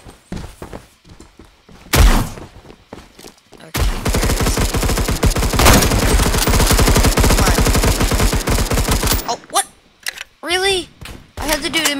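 Sniper rifle fire in a sniper shooting video game: sharp, loud shots, then a long dense stretch of rapid crackling gunfire, followed by scattered thuds and bursts, with a voice talking at times.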